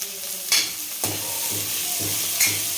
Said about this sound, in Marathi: छान खरपूस असा वास येईपर्यंत परतून घ्यायचे